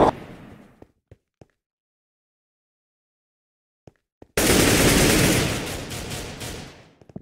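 An XM-1014 shotgun fires in a Minecraft minigame, a loud, dense burst of gunfire that erupts suddenly after near-silence and lasts a few seconds, preceded by a short noisy stretch and a few isolated clicks.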